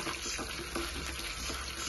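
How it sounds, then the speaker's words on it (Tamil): Almonds, pistachios and cashews roast in ghee in a pan for halwa, giving a brief, quiet, close sizzle with soft stirring scrapes and light rattles. "எல்லாத்தையும் போட்டுட்டு நல்லா வணக்கிக்கலாம், வறுத்துக்கலாம்."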